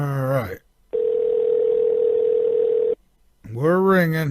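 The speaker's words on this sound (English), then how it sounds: "We're ringing." A telephone rings out on a radio show's group call as one steady electronic tone lasting about two seconds, framed by brief moments of a person talking before and after.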